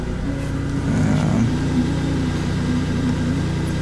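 A first-generation Toyota Tacoma truck engine runs at a steady idle, a close, continuous low hum with a brief swell early on, alone without speech.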